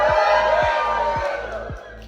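Crowd of runners at a Lululemon Chicago Marathon shakeout run whooping and cheering together, a loud sustained burst of overlapping voices that fades slightly toward the end.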